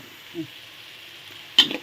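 Steady sizzling hiss of egg stir-frying in a pan with sugar, fish sauce, oyster sauce and soy sauce, with a sharp scrape of stirring near the end, close and moderately loud.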